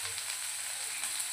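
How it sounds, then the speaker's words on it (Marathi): Soya Manchurian with vegetables such as garlic, capsicum and onion sizzles in a pan, a steady close hiss for a moment. "2 ते 3 मिनटं फक्त याला"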